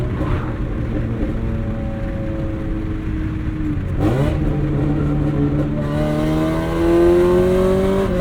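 A 1990 Acura Integra RS with 400,000 miles revs hard on a test drive, its engine note climbing steadily in pitch with a brief dip near the middle. The sound is loud and close, with no talking.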